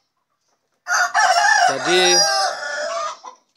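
A rooster among free-range village chickens gives a single full crow nearby, loud and drawn out over about two seconds, with a brief word spoken at the very end.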